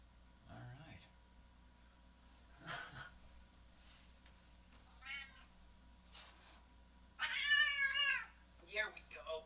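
A cat on a kitty cam meows several times, in short separate calls and then a longer, louder drawn-out meow near the end, with a person talking quietly around them.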